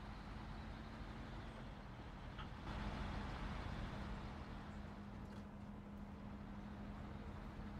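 A GMC truck engine in the SnowRunner driving game, working hard off-road with strong torque, gives a steady, dense mechanical rumble with a low drone that stays constant throughout, with no voices.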